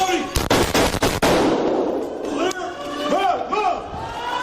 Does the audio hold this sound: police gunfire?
yes